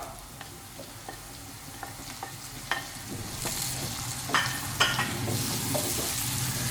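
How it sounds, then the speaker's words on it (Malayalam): Spice powders and chopped tomato for egg bhurji sautéing in a pan, a steady sizzle and fry hiss with scattered stirring scrapes and clicks, close up and continuous with no voices. "ഇനി പൊടികളുടെയൊക്കെ പച്ചമണം നന്നായിട്ട് മാറണ വരെ നമുക്ക് നന്നായിട്ടൊന്ന് വഴറ്റിയെടുക്കണത്"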